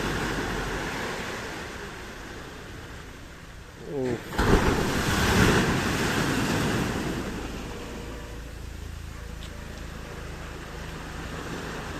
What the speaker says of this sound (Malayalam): നല്ലൊരു തിരമാലയാണ് വരുന്നത്